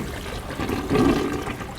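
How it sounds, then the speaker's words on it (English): A toilet flushes inside the horror video game Layers of Fear, a steady rushing water sound that swells in the middle and then settles, close and fairly loud, with no talking. "Flush the toilet."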